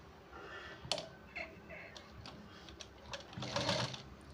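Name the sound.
sewing machine stitching blouse shoulder seam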